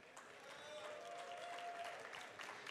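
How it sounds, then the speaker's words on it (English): Faint, distant audience clapping, a soft continuous patter of many hands with crowd murmur, steady for a few seconds. "That was like a 9K clap."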